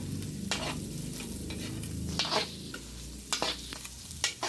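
Food sizzles and crackles in hot oil up close, with scattered pops and the scrape of stirring, steady and busy throughout, while chopsuey is fried.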